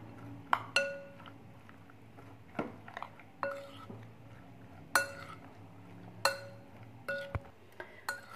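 Shredded boiled chicken being mixed with spices in a dish: intermittent metallic clinks and scrapes of a utensil against the bowl, about a dozen sharp taps spread unevenly, close and fairly quiet, with no talk.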